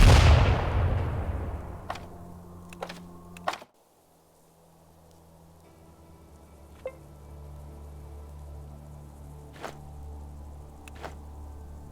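A thrown grenade explodes in a video game with a loud, broad blast that fades over about three seconds, followed by scattered sharp pops and clicks over a low hum.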